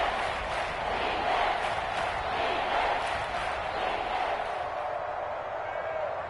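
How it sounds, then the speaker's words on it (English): A large football stadium crowd roars in a steady, swelling wall of noise before a big third down in a 49ers–Seahawks game, heard under continuous commentary from a play-by-play announcer. "the crowd getting into it as we come up on a big 3rd down"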